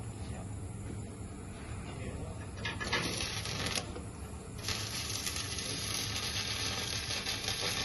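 Continuous crackling sizzle of an electric welding arc during a teaching demonstration at a polytechnic, with a steady hiss and a few brighter surges of spatter, moderately quiet and heard without talk.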